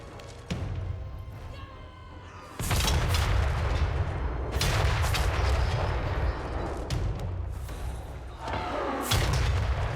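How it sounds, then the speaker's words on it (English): Grand Cannons firing in the strategy video game Total War: Warhammer 3, a series of heavy, booming blasts with rumbling tails, loud and dense over continuous battle noise. "we have the Grand Cannons. One of my favorite sound designs in the entire game. I love listening to these things fire."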